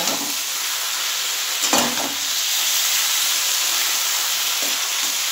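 Mustard paste being stirred in a frying pan while cooking a bottle-gourd stem and fish head chachchari, a steady loud hiss of frying with a few brief scraping stirs.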